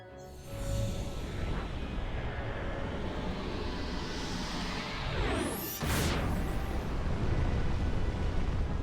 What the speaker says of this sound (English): you just kind of do some combos and then a big explosion happens